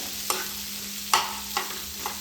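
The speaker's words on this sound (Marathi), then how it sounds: "हे सुद्धा मी मीडियम फ्लेमवरच फ्राय करून घेणार आहे" Paneer tikka masala frying in a pan over a medium flame, a soft steady sizzle with a few brief scraping stirs, close and alone.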